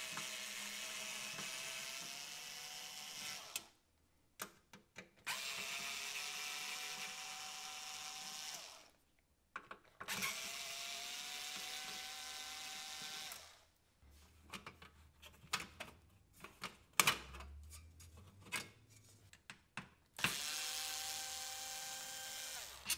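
Screws being driven out of the back panel of a Philips DCC730 digital compact cassette deck with a power screwdriver, heard as several close, loud whirring bursts of a few seconds each, separated by short pauses and clicks.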